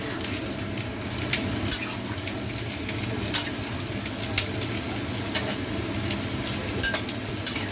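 Chicken sautéing in oil in a pan for a chicken curry, with a dense continuous sizzle and frequent spatula scrapes and clicks, close up and steady throughout without any talking.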